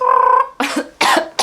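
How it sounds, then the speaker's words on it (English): After a short tonal vocal sound, a person coughs three times in quick succession, close and loud, following a smoke. "While I cough afterwards."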